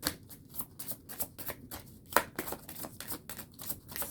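Tarot cards are shuffled in a fast, steady run of crisp slapping riffles, close and continuous, with no voices.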